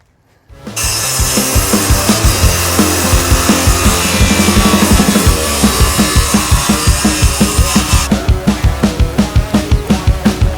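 A power saw rips along a 2x4 screwed down to a sawhorse, starting abruptly and running loud and steady, then settling into a rapid rhythmic chatter toward the end of the cut.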